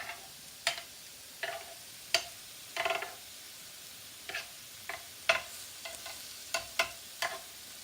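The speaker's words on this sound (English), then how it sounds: "We're going to flip the chicken." Chicken pieces on a small, crowded grill being flipped for char and grill marks: a series of sharp scraping clacks and brief sizzling bursts over a quiet, faint background hiss, with no talking.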